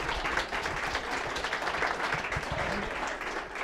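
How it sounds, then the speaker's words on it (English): Sustained applause fills a conference hall, steady and dense clapping from a large audience, continuous and fairly loud throughout. "if you give them a round of applause, please"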